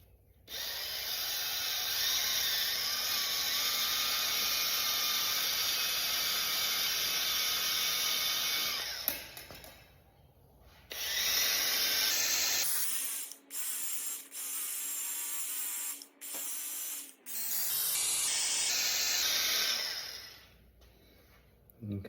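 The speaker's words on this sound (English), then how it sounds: "So now I just got some metal polish and a little buffer." Small power buffer polishing a stainless steel and silicon bronze welder's bracelet with metal polish, a loud steady high whine running for several seconds, then cutting in and out in short bursts, with occasional speech.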